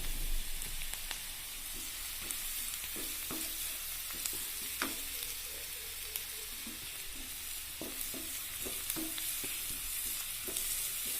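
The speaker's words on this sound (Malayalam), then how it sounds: "ഇങ്ങനെ സവോള ഒന്നിങ്ങനെ വതക്കി വന്നാൽ മതി." Sliced onion with curry leaves sizzles in a pan for cabbage koottu, a steady close frying hiss broken by scraping stirs of a spoon at irregular intervals.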